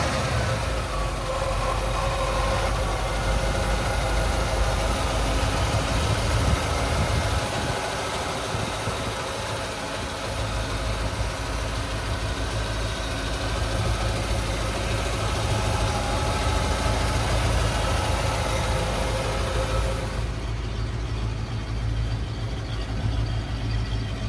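A 1975 Ford Bronco 4x4 engine runs steadily with a continuous low rumble and vibration, close by and unbroken throughout.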